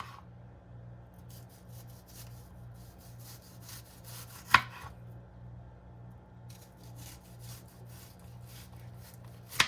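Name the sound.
knife chopping an onion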